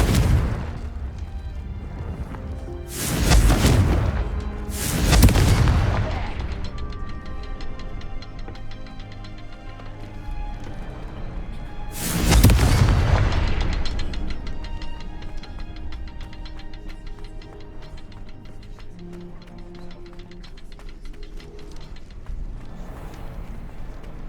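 Repeated Confringo fire spell blasts in Hogwarts Legacy, several loud booming bursts spaced a few seconds apart, each trailing into a rumbling decay over a steady game background.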